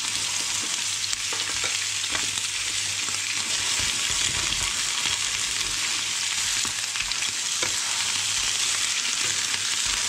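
Venison cutlets frying in butter in a pan, a constant close hissing sizzle with faint occasional movements of the meat, no voices.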